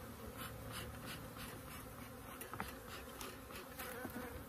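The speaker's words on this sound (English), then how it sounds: "Nice bees, not going to disturb them." A dense, steady hum of many honeybees buzzing close by in an open hive, with individual insects droning past now and then.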